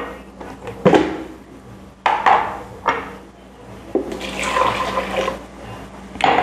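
Blended homemade seasoning liquid strained through a sieve into a bowl, with sharp taps and knocks of the utensil against the sieve and a running pour of liquid building toward the end, close and fairly loud with no talking.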